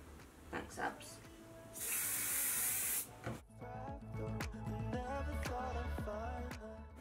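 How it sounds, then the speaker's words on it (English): Hair wax spray misted over hair, one close, loud hissing burst of about a second and a half, with someone talking before and after. "the way I'm going to stop all those flyaways is using the wax spray that I always use"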